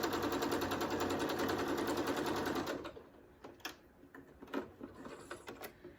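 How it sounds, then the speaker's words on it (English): A sewing machine stitches a quarter-inch seam along the edge of fabric squares, running in a loud, fast steady rattle for about three seconds before stopping, then followed by quieter intermittent clicks and fabric handling. "We're going to take down one side of these and sew a 1/4 inch seam allowance."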